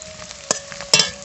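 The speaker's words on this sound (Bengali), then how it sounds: "পেঁয়াজ হালকা করে ভাজি করে নিয়েছি এখন দিয়ে দেবো আদা রসুন বাটা" Ginger-garlic paste hitting lightly fried onions in a pan for a mutton curry, a soft steady sizzle broken by two brief louder bursts of stirring and spattering, close and alone without talk.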